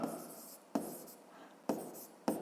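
Pen strokes scratch across paper while a math solution is written out, in four distinct bursts of scribbling separated by short pauses, close and quiet.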